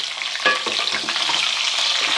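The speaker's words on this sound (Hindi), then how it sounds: "हरी मिर्चों को कर रहे हैं फ्राई" Green chillies frying with garlic in a pan over medium-low flame, a loud close sizzle with quick stirring scrapes throughout, no talking.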